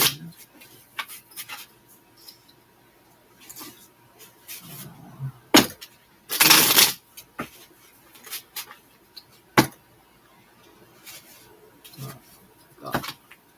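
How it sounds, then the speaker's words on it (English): Tarot cards are shuffled during a live reading, producing scattered soft taps and riffles with one louder, longer burst of rapid card flutter, mostly quiet in between. "let me do 4 shuffles and I'll finish the laying down cards"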